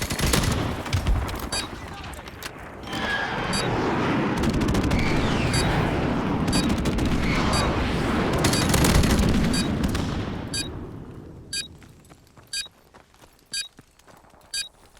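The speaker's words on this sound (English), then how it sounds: "Friendly airstrike on the way." Video game Call of Duty Modern Warfare Remastered multiplayer: a friendly airstrike rumbles in a long, heavy roar of explosions over rapid gunfire, then fades to scattered, sharp single shots.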